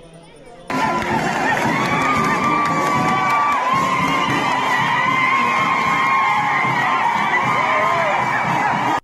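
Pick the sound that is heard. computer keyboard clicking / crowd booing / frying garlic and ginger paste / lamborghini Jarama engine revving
crowd booing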